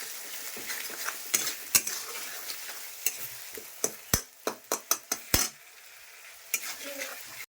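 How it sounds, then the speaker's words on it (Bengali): Potatoes and spice paste are stirred in hot oil in a pan: a continuous low sizzle broken by a series of sharp, loud metal spoon clanks and scrapes against the pan, close by. "ভালো করে এটা কষাতে লাগবে। না কষালে মশলার একটা গন্ধ হবে"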